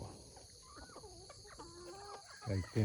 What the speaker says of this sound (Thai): ไก่ชีนี่งาม